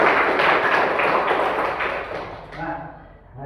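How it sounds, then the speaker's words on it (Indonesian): A classroom of children applauds for class 4, a dense, loud burst of clapping that holds steady and then fades into voices. "Tepuk tangan untuk kelas 4."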